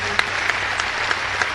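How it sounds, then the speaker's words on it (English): Steady crowd applause at a shotgun sports national championship celebration, dense clapping with a few sharper claps standing out, filling the short moment without any voices on top. "Let's give John a round of applause."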